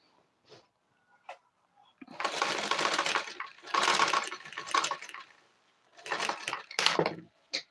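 A sewing machine stitches fabric along the neckline of a simple kids' dress, running in three steady bursts separated by short pauses, with a few faint clicks in between.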